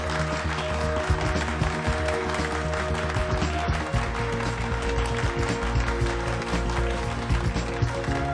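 Dense, continuous applause from an audience fills the whole stretch with steady clapping and scattered louder claps, and faint voices sit underneath.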